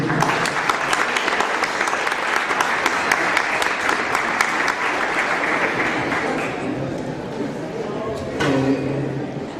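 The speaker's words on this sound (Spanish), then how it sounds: "pido un voto de aplauso para el doctor Jacinto" Audience applause for an anthropologist's keynote lecture at a university conference, sustained dense clapping that tapers off near the end, with a brief voice or noise rising at the close.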